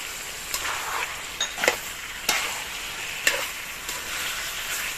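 Chopped tomato tumbling into a hot pan of sizzling meat, steady frying hiss broken by several sharp stirring scrapes and clatters, close and clear with no talk.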